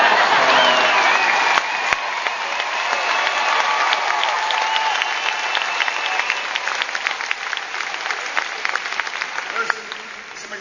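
A large crowd at an outdoor-style Obama political rally in Green Bay, Wisconsin, breaks into loud, sustained applause and cheering that slowly thins and fades toward the end.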